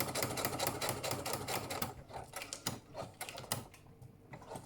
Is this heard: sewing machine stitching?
yes